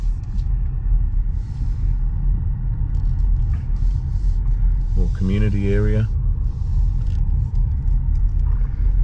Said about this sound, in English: I'm just going to drive down and maybe it's a truck rest stop or something